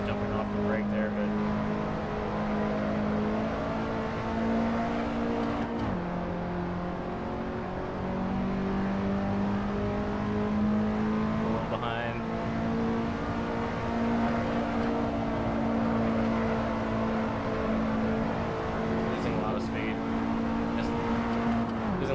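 Game car engine at the Roebling circuit holds a steady drone that dips under braking and climbs again on acceleration, with a voice talking over the engine.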